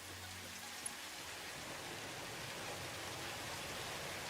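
Steady rain in the video game Satisfactory falls as an even, soft hiss over a glass-walled build, continuous and quiet throughout with no talking.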